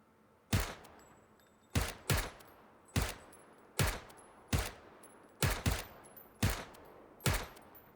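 Gunshots ring out in PUBG gameplay on an Xbox One X, about ten sharp, loud reports at irregular intervals, some in quick pairs, each followed by a short echoing decay.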